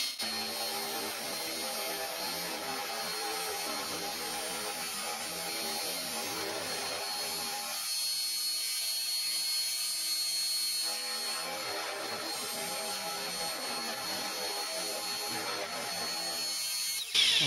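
Milling cutter on a homemade milling machine rubbing against the workpiece rather than cutting, a steady scraping machine drone that runs continuously and fairly loud, with a brief quieter dip midway.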